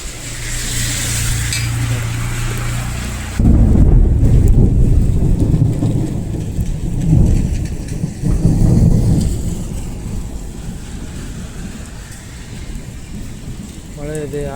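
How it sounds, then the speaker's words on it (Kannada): Heavy rain pours steadily outside during a storm with lightning, overlaid by deep, rolling thunder rumbles that swell and fade over a constant wash of falling water. "ಆಚೆ ಹೆವಿ ಮಳೆ ಇದೆ"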